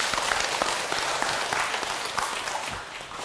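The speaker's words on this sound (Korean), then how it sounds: "박수 한번 부탁드립니다" Sustained audience applause at a talk event, a steady dense wash of many hands clapping filling the whole stretch at even loudness.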